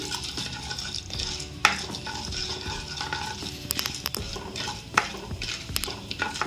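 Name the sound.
mustard seeds, cumin and lentils frying in hot oil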